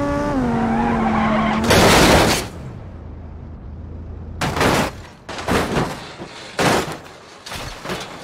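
Engine revving with pitch shifts, then loud bursts of tire screeching and crunching impacts from a video game car skidding and crashing, in repeated blasts.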